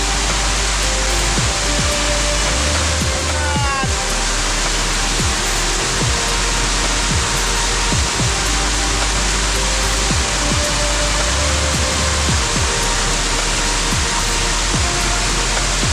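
A steady, roaring rush of a waterfall near Ranjanpada village, Alibag, fills the whole stretch, loud and unbroken, with faint low thumps now and then beneath it.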